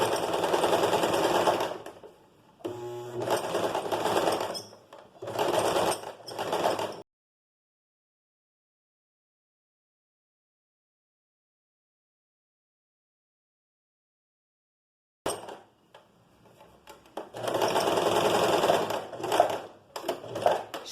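A domestic sewing machine topstitches a skirt seam with pleats, running in rapid mechanical bursts with a brief stop and restart, then falling silent for several seconds before stitching again in loud, close runs.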